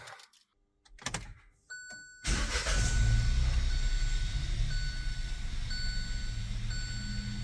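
A Kia Picanto's engine starts after a few clicks and chimes. It settles into a steady, close idle hum while a dashboard tone beeps repeatedly over it.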